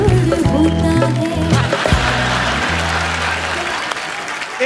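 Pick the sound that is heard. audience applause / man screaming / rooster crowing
audience applause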